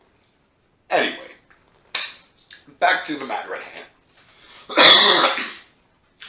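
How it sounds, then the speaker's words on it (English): A person coughs in several sharp, separate bursts spread over a few seconds, close and fairly loud, with a short stretch of talking between them. "That was coughing from BSing too much."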